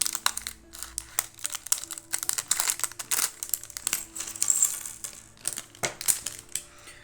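A minifigure packet is torn and opened up close, with busy crinkling plastic and sharp little rustles and clicks in irregular bursts, no talking.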